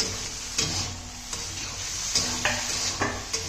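Chopped tomatoes go into a pan of frying ginger, garlic and onion. A steady sizzle runs throughout, broken by occasional scrapes and clinks of a stirring utensil against the pan.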